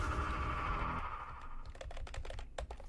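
Computer keyboard and mouse clicking during a PC game session, a quick run of sharp, close clicks and taps in the second half over a steady background hum, with no talk.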